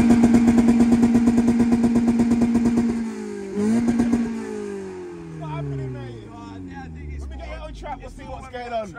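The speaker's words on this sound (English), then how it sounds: "1500 quid cheap car challenge, yeah. MX5 welded diff." A cheap Mazda MX5 with a welded differential accelerates hard on a track, its engine buzzing loudly and climbing through revs before gear changes; voices talk over the later part.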